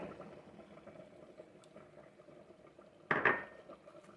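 Water is poured into a pot of Iraqi curry rice seasoned with salt, a short splashing burst rising briefly over a low steady simmer and faint kitchen clatter.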